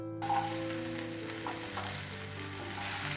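Garlic cloves, and ginger with them, fry in a pan of hot oil with a steady, close sizzle. Soft stirring clicks come through now and then, with no talking.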